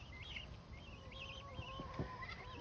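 Young guinea fowl chicks, newly let out on a farm, give repeated thin high peeping chirps in a steady string over low background rumble, near and moderately loud.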